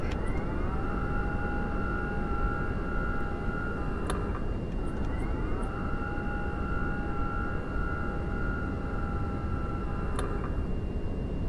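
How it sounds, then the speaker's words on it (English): A PC-24 jet's flaps run in Microsoft Flight Simulator 2024, giving a steady whining electric motor tone that holds, stops with a click, then starts again over constant cockpit hum. "Let's take a listen to the flaps."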